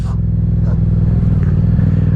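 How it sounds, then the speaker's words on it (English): Loud motorcycle exhaust with a deep, throbbing idle rumble, steady and close, under wind noise. "I think my exhaust is a little loud."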